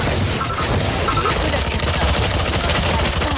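Gunfire in Valorant rattles in dense, rapid volleys, loud and continuous throughout with no pause between shots.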